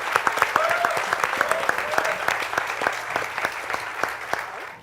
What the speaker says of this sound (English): Let's start that big round of applause.